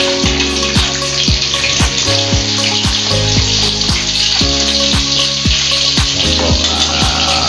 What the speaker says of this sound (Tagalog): Ayan guys, ating pong ipiprito yan.